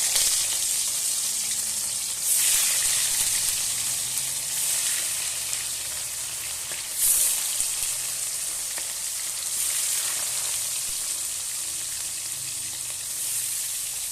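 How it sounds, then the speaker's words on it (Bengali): Fish frying in a generous amount of hot oil in a wok gives a steady, close sizzle with no voices, swelling in a few brief bursts of hissing spatter. "এবার ভালোভাবে ভেজে নেব মাছটা আমি"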